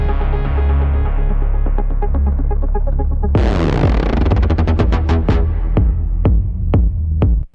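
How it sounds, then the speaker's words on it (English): A tech house synth patch whose LFO rate is automated by an envelope, starting as a low throbbing hum, then a bright burst that breaks into rapid pulsing that slows and spreads into separate ringing blips before cutting off. "we're going to check out how you can automate the rate of the LFO using an envelope to create some really cool textures and tones"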